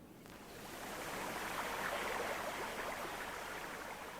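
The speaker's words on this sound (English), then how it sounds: "Streams gather along the bottom of the scarp slopes and gush into water holes" A wet-season stream in Oman gushing along the bottom of scarp slopes into water holes, a steady broadband rush of flowing water that swells slightly and stays constant, with no voices.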